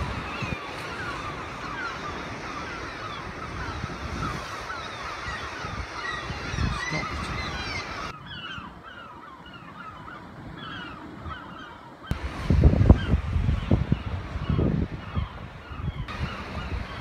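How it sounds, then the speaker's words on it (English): Nesting geese-like birds near the coast honk and call repeatedly at a middle distance, under gusty wind noise on the microphone, with a louder stretch of wind buffeting later. "there's nesting birds down here, I think."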